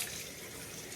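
Tap water runs steadily into a kitchen sink, a broad continuous hiss and splash at moderate, even level for the whole moment, with no voices over it.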